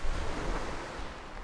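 Sea waves wash onto the shore at the resort village of Gaspra in Crimea, a steady broadband rush of surf mixed with some wind, loud and continuous for a moment.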